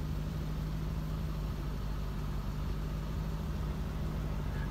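A 1985 Cadillac Eldorado idles quietly, with a steady low engine hum and no exhaust leaks, running evenly and alone without any voices.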